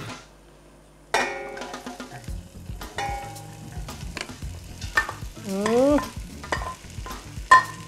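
Chopped garlic and ginger hit hot oil in a pot for bone soup and sizzle steadily while a utensil scrapes and stirs, with a few metallic knocks against the pot.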